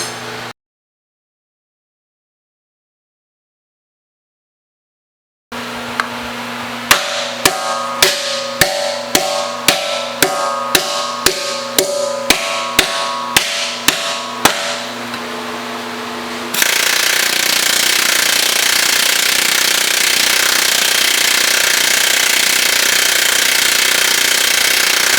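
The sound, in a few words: metal planishing hammer on car body panel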